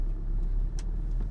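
A car pulls away in first gear in Chennai traffic, a steady low engine rumble close by with a brief higher whoosh partway through, no voices.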